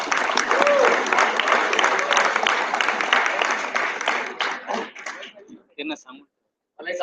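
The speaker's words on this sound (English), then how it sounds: "Big round of applause for first years of this college." A college alumni meet audience applauds loudly and steadily for several seconds, the clapping thinning into scattered claps before stopping.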